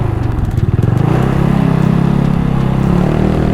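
Yamaha Aerox scooter engine revs loudly up close, with a rough, pulsing low-pitched rumble that rises into a steadier high-rev drone, without speech.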